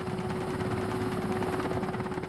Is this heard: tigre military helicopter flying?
yes